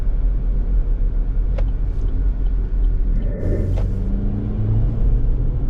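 Seen from inside the cabin, a 2024 Chevrolet Equinox LT accelerates with a loud, steady low rumble of engine and road noise, a few faint clicks and a rising whine near the end.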